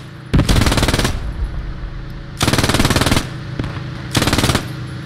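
MG 42 machine gun from the video game Post Scriptum fires three long, loud sustained bursts, each roughly a second long and separated by brief pauses.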